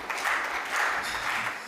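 A crowd applauds at a Hindi comedy poetry show, sustained clapping heard slightly distant and moderately loud for the whole moment, with no speech over it.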